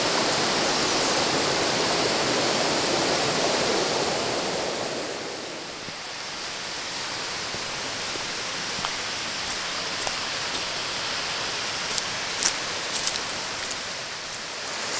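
Clear mountain water of the Conway River rushing steadily in a broad, even roar, louder at first and easing slightly, with faint splashes and ticks on top.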